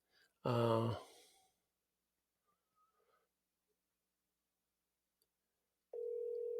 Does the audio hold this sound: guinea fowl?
no